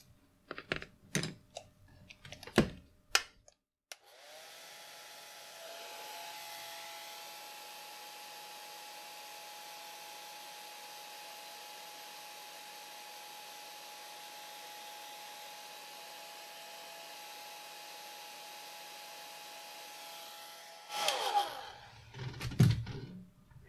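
Hair dryer blowing to dry a watercolor painting of a baby fox, a steady whooshing hum that starts after a few clicks and handling noises, runs unbroken for about seventeen seconds, then stops with clattering.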